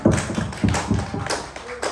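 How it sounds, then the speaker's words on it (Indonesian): Clapping at the close of an Indonesian seminar on growth mindset: a short, close burst of hand claps and taps, uneven and somewhat thumpy, with faint voices mixed in. "Tepuk tangan buat semuanya."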